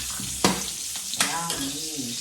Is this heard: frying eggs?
yes